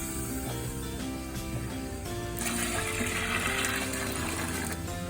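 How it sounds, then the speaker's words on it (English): Tap water gushes loudly into a home brew beer fermenter, a steady close splashing rush that grows brighter and fuller partway through as the vessel fills. "I'm just using regular tap water"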